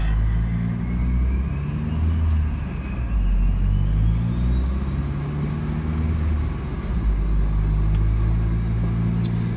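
A Ford Zetec turbo engine with a Pectel T2 ECU runs under steady load, giving a loud, continuous low rumble with a slow rise in pitch and a faint turbo whine on top, alone with no talking.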